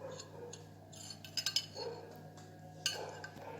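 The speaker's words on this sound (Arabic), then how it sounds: "حط القهوة بعد كده نقلبه." A metal spoon stirs coffee into cake batter in a bowl for a blender chocolate cake, giving a few sharp clinks against the bowl among quieter scraping, close by with no talk.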